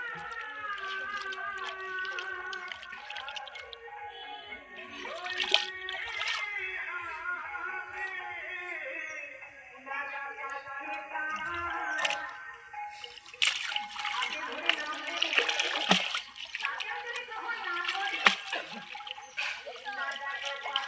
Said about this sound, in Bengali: ভালো করে ধুয়ে নেবো চটকে চটকে সুন্দর করে।